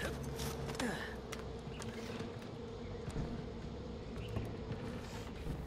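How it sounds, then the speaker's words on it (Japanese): Bees buzz in the Far Cry 4 game world, a steady low droning hum that holds evenly throughout at moderate level, with no talk over it. "ワンワン言うてるのこれ何や。 蜂でもおるか。"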